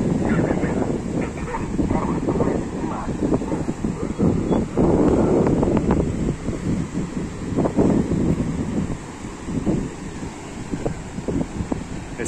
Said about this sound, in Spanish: Mira cómo está la playa aquí.